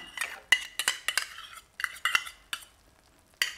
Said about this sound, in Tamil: இப்போ நல்லா கலந்து விட்டுட்டு இறக்கி வச்சுக்கலாம்.